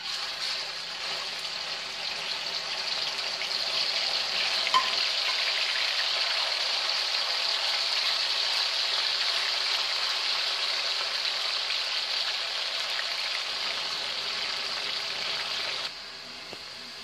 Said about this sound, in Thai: เดี๋ยวจะเอาพริกออกแล้วเราก็ทอดหมูต่อไปเลย